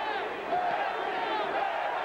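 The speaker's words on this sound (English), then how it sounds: "And the crowd chanting, Reggie, Reggie." Crowd at a 1992 boxing match between Reggie Johnson and Lamar Parks, a dense continuous roar of many voices rising and falling in a steady chant, loud and filling the arena throughout.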